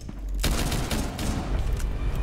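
Pistol gunfire in a Rainbow Six Siege match, a loud continuous barrage of rapid close shots that starts abruptly and keeps going without pause, with no voices.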